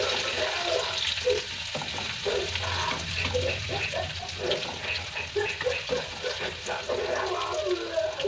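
Chopped shallots go into hot oil where mustard seeds are popping for a potato curry, giving a close, steady sizzle with scattered sharp crackles and small pops throughout.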